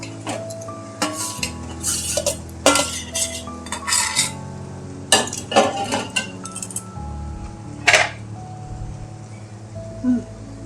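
Prawns tossed and stirred in a pan with coconut for stuffed pointed gourd dorma, heard as repeated metal spoon clinks and scrapes against the pan in irregular bursts, close, with only faint sizzling between them.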